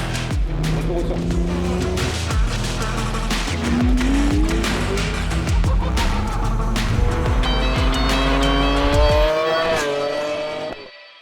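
A Golf R32 tuned to 1200 horsepower does a burnout, its engine revving hard and rising in pitch while the tires squeal and howl continuously before the sound cuts off abruptly.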